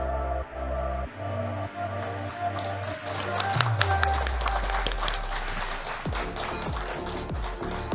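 An audience applauds steadily after a fashion show, dense clapping from a crowd building over several seconds, with music and a voice underneath.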